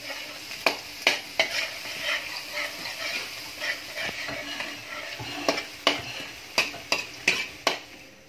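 Garlic sautés in a pan with a soft sizzle under repeated sharp scrapes and taps of a spatula, spaced irregularly and close by, with no talk.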